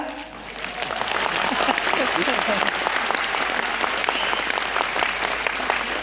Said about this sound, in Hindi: और ये तालियां किसके लिए बचा के रखी हैं?